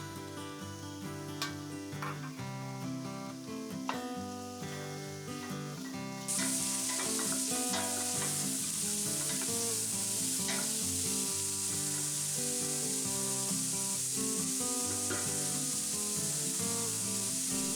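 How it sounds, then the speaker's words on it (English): Onions frying in a teaspoon of oil in a hot pan over medium heat, a continuous close sizzle that grows louder and hissier partway through, with occasional stirring scrapes. "Once it's hot, add the onions and give them a stir."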